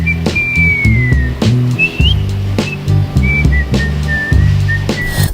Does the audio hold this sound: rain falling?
no